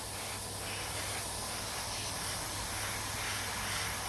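A steady hiss of air sprayed over a freshly varnished model train, continuous and close, with no voices.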